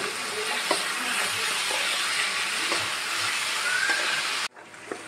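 Chopped onion and garlic sizzle in hot oil in a pan while making white sauce pasta, a loud, steady hiss close by with faint stirring scrapes, ending abruptly as the sizzle drops.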